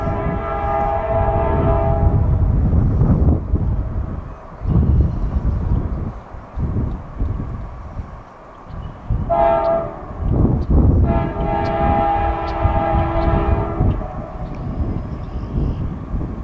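A big CSX freight train rolls past with a steady loud rumble, its multi-tone horn sounding in a long blast early on and again in later blasts near the end, with no talk.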